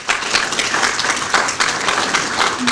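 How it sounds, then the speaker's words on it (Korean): Audience applause for a guest introduced from the seats at a civic group's Gwangju declaration gathering, a loud steady burst of clapping from a crowd, heard alone. "최선홍 선생님 좀 박수 한번 좀 부탁드립니다."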